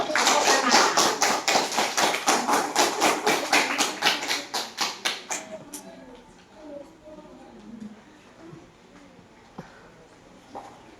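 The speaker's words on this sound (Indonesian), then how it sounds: "Tepuk tangan untuk mewakili yang mewakili kelompok 2." A classroom of primary school pupils claps in unison for a group representative, a steady rapid rhythm of sharp claps that slows and fades out after about five seconds, leaving quiet shuffling and a few scattered taps.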